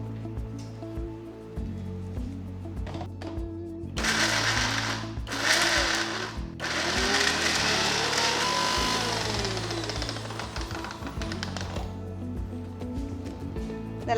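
A kitchen mixer grinds ginger, garlic, pepper and turmeric for a pork pepper roast marinade, whirring loud in two short pulses and then one longer continuous run, with a low motor hum before and after.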